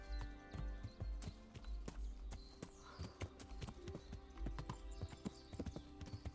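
Clip-clopping horse hooves in Kingdom Come: Deliverance as the rider picks a way down a steep forest slope, the footfalls uneven and stuttering, close and distinct against quiet ambience.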